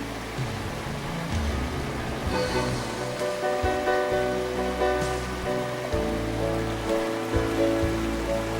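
Rushing water from the Galgera waterfall near Durlo di Crespadoro, Italy, pours in a continuous, loud, full-bodied wash, with no voices present.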